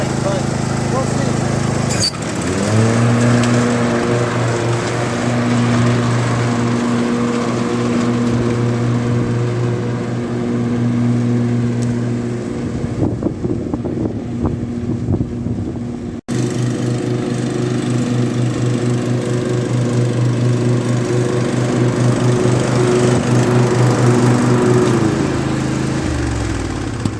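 A Husqvarna lawn tractor mows grass after a deck repair, its engine droning loud and steady close by for nearly the whole stretch. The pitch dips briefly partway through, then the engine shuts down near the end.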